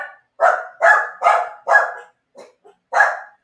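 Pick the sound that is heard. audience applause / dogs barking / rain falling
dogs barking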